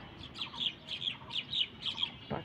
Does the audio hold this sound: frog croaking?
no